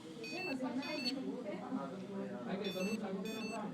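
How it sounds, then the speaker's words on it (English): Repeated electronic fire alarm warning beeps sound in short bursts, with a person talking underneath. "and an audible tone from the alarm"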